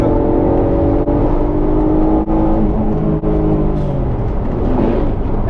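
An Alfa Romeo 147 GTA with its naturally aspirated V6 revs hard toward about 6000 rpm. The loud, continuous engine note climbs steadily in pitch, with brief dips at the gear changes and no talking.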